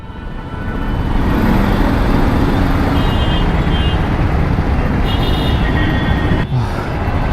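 Dense Bangalore road traffic: a continuous loud rumble of cars, buses and trucks passing close by, with a brief horn-like tone partway through.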